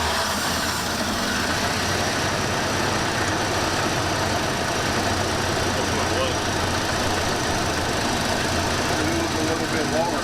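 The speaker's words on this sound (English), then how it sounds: "Key on. Crank." The engine of a 1968 Buick Electra runs in a steady, loud, uniform drone that fills the whole stretch, with no clear start or change.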